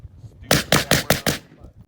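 Five quick shots from a suppressed 5.56 AR-15 rifle with a 14-inch barrel in a steady rhythm, each a sharp snappy crack with a short echo tail, close and fairly loud.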